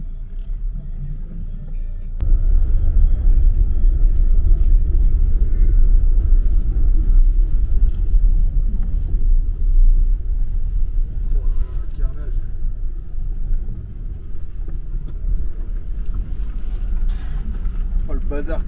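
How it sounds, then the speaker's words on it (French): Strong wind roaring over a vehicle camp in the Atacama desert of northern Chile during a rain storm, a loud steady low rumble of gusts buffeting the microphone, jumping louder after two seconds and staying heavy throughout. "il y a un vent pas possible"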